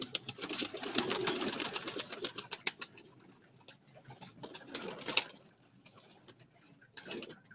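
Pigeons kept in pairs on a rooftop coo and flutter, with bursts of wing flapping and cooing that come and go, fairly close and moderately loud against quiet background.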